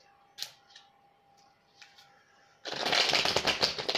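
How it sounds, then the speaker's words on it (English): A few light taps and slides of tarot cards, then a sudden burst of brisk, continuous riffle shuffling that stays loud and close until the end. "Let me pull some extra cards."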